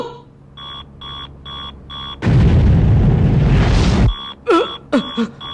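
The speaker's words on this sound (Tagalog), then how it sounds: "parang may sumabog sa loob ng kaha" A single heavy anime-style blast bursts inside a bank vault, a loud roaring boom lasting almost two seconds that cuts through steady electronic beeping, followed by a few sharp swooping tones.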